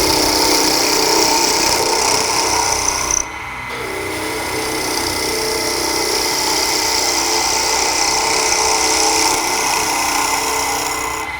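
Wood lathe spinning a spindle blank for a Christmas bell while a skew chisel cuts, a steady broadband hiss and whir that drops briefly after about three seconds, then resumes continuously without talk.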